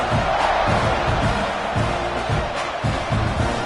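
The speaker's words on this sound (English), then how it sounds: "They're set to kick it off, and this crowd now ready to get behind them." A football stadium crowd waits for the kickoff, a steady, dense roar of many voices that fills the space without letup.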